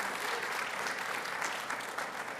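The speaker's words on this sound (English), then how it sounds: "so we're gonna clap it up for Justin." An audience applauds in a steady wash of clapping hands that stays dense and even throughout the short stretch, with no voices over it.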